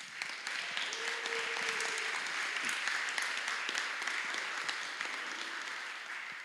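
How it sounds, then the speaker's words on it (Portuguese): Sustained applause from an audience, a dense steady wash of clapping that continues throughout and fades slightly at the end. "Palmas."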